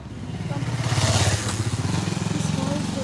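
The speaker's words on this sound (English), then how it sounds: "drive their motorbike here" A motorbike engine putters loudly nearby with a rapid, rhythmic thrum, swelling as it passes close by, then easing off slightly.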